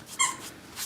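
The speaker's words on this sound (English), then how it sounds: "that's my dog" A pet dog named Fitzy lets out a short, high, squeaky whimper, a single thin whine of a fraction of a second, close by and fairly soft, with no talking.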